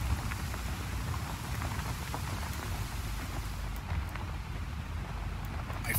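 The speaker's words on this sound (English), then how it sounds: "Storm's rolling in." Steady rain pours in a stormy game world of Just Cause 4, a dense even hiss with scattered drop patter on surfaces, moderately loud and continuous, with no clear thunder.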